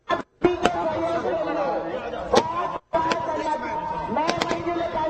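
Festive Vijayadashami fireworks crackle and pop at a public celebration in Bhopal, sharp bursts scattered over a steady crowd chatter and talk.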